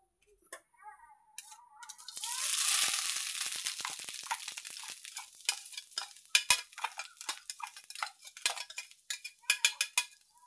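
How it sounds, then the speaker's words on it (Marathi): Grated fresh coconut is stirred and roasted in hot ghee over low heat, a soft sizzle swelling early, then repeated sharp scrapes and taps of a spoon against the pan, close and distinct. "आणि आपल्याला खोबरं असं तुपामध्ये छान परतून घ्यायचं."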